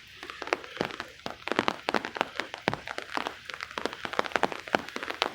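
Rain falling on a city walk to the park in Chester, Pennsylvania, heard as a steady scatter of sharp, close taps and patters on surfaces, busy and irregular throughout.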